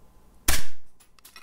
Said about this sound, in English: this will be for the propeller breaking